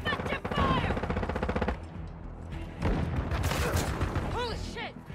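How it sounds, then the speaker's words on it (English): Gunfire in the video game Call of Duty Modern Warfare II, rapid automatic bursts and shots close by in a Hardpoint match, mixed with shouted in-game voice callouts. "Taking effective fire!"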